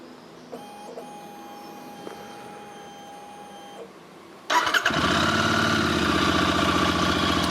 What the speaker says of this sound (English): Okay, we're going to start the bike up